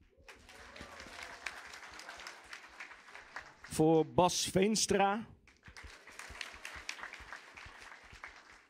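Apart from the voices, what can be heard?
audience applause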